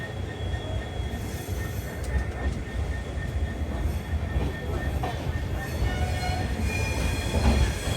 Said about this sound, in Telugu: ఇక్కడ బండి రెడీగా ఉంది.